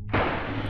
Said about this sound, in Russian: И змея взрывается.